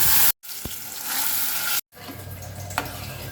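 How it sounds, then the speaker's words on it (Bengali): Loud frying sizzle with stirring scrapes as lentils are poured into hot oil with fried onion and garlic, broken by two brief cuts to silence, then settling into a steadier bubbling sizzle. "তারপরে আমি এর মধ্যে ডালগুলো ঢেলে দেবো"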